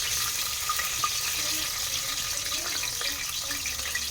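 Chopped onion hits hot oil already seasoned with cumin seeds while a vegetable pulao is being prepared, giving a steady, even hiss of frying that holds at a moderate level throughout.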